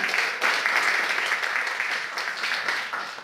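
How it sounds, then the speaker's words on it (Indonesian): Applause breaks out for a newly introduced person at an Indonesian group gathering, steady clapping from a small audience holding for about three seconds before tapering slightly. "Boleh tepuk tangan untuk Johan Satria"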